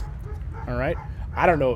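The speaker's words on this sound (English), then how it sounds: "If you guys can hear my dogs right now, I'm sorry." Pet dogs in another room let out two short bursts of excited yips and whines, muffled by the distance, while a person talks nearby.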